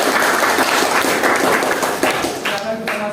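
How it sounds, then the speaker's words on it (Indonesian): Classroom audience applause, a dense burst of clapping lasting a few seconds, close and loud, with voices mixed in. "berikan tepuk tangan"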